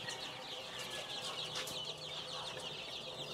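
Week-old chicks in a brooder, heard as a constant dense chorus of high, close peeping over a low background hum.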